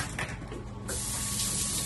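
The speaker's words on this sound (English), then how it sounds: "I'm rinsing my hands with a little bit of soap and water because I just touched raw egg" Running tap water rinses soapy hands at a kitchen sink, a steady close hiss of water that swells louder partway through, with no talking.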